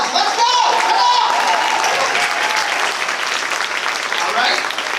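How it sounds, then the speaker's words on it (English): A crowd at a Dallas real estate event applauds loudly and steadily for five seconds, a full, sustained wash of clapping with cheering voices mixed in. "Let's give a big round of applause."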